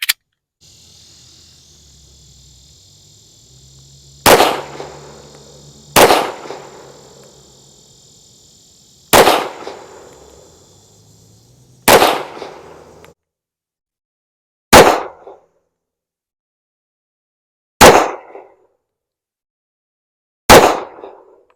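A Rock Island Tac Ultra FS 1911 pistol fires seven sharp, loud shots spaced about three seconds apart, each followed by a short echoing decay. A faint electronic whine sits under the first half.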